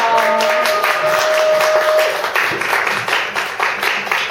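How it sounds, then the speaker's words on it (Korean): Audience applause welcoming a speaker to a Korean talk event, a steady crowd of clapping that holds for several seconds, fairly close, with a faint tonal hum beneath in the opening half. "박수로 맞아주세요."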